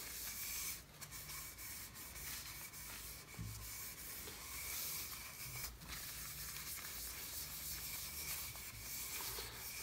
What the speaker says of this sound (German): Einmal mit dem Lappen drüber.